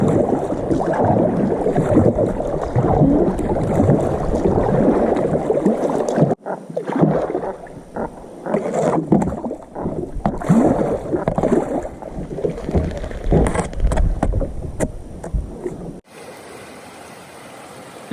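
A kayak is paddled across a lake in the wilderness, with steady splashing and water swishing close by under heavy wind buffeting on the microphone, then a sudden quieter stretch at the end.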